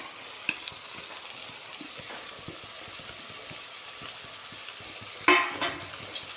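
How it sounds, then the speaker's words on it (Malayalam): Tomatoes and green chilies sauté in a pan for a Kerala-style fish curry, giving a quiet, steady sizzle with soft stirring scrapes and a sharper burst of frying noise near the end. "ഇനി ഇതിലേക്ക് നമ്മൾ അരിഞ്ഞു വെച്ച തക്കാളിയും പച്ചമുളകും കൂടി ഇട്ട് കൊടുക്കാം."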